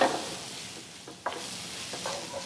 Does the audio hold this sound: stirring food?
yes